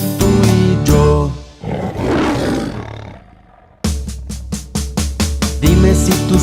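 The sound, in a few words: lion roaring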